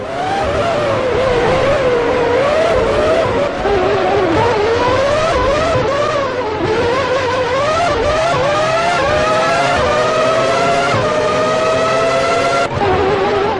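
Formula One race cars from the PS2 game Formula One 2003 scream around the Monaco street circuit, high-pitched engines rising and falling through gear changes, loud and continuous with several cars close together.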